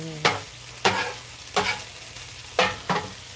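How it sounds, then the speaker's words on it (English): Onions and meat for a cheesesteak frying in a pan and being stirred, with a steady sizzle broken by five scraping, tossing strokes at a loose rhythm. "So I'm going to toss the onions in the meat. Get them nice and mixed and cooked together."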